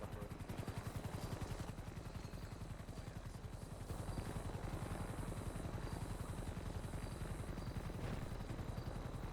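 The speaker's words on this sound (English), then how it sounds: "Yeah, I told them to just land the heli." A helicopter sets down in a video game, its steady rotor chop and engine whine running loud and continuous throughout, with a brief dip in level partway through.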